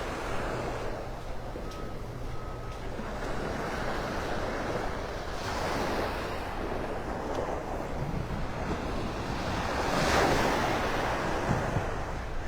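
Ocean waves wash steadily onto the shore at Vanderbilt Beach in North Naples, Florida, a continuous broadband surf with gentle swells and some wind rumble, building slightly louder near the end, with no voices.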